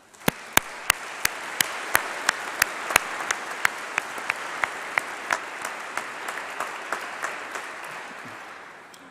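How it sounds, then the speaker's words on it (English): An audience in a great hall at a university graduation ceremony breaks into steady applause, with sharp individual claps standing out over a softer background of clapping that gradually tapers off. "Can we give them a round of applause, please?"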